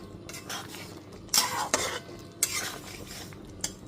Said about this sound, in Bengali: ভাজা মশলাটা দিয়ে দেওয়ার পর খুব ভালো মতো একটু মিশিয়ে নিলাম।